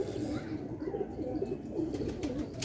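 Sialkoti black-faced pigeon cooing softly and steadily in a low, continuous murmur, with faint background noise and brief high clicks near the end.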